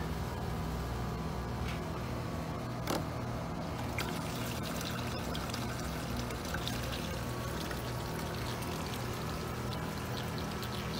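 Water rushes and pours steadily through the coils of a tankless water heater during a flush, a continuous trickling, gurgling flow with occasional faint clicks, no talking.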